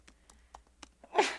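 A few soft intakes of breath lead into a single sharp, loud sneeze close by, during a planning board meeting.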